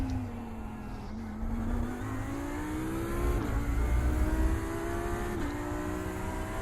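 GT3 race car at Laguna Seca heard from inside at a steady engine drone that climbs gradually in pitch as it accelerates, with two brief dips at gear shifts, loud and continuous with road and wind roar underneath.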